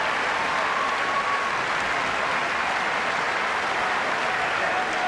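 Sustained applause from a tennis crowd at the 2003 Masters after Federer beat Agassi in a round-robin match, a dense, even wash of clapping that continues steadily throughout, with no talk over it.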